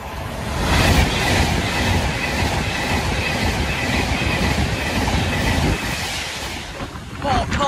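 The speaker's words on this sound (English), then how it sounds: "Passing through now is an Avanti West Coast service from Manchester Piccadilly to London Euston." An Avanti West Coast passenger train running from Manchester Piccadilly to London Euston passes through a station at speed, making a loud, sustained roar of rumbling wheels and rushing wind that swells and holds for several seconds.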